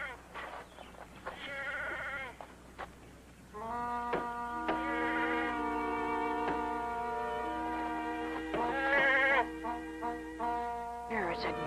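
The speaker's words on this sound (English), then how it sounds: "There, it's a goat." A goat bleats several times on a farm, its wavering, harmonic cries rising and falling in a series of calls, with other bleats overlapping and a low background hum throughout.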